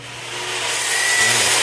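Steady broadband rasping of a blade or rasp shaving wood off the side of a cheap speaker cabinet, growing slightly louder over a couple of seconds with no talk.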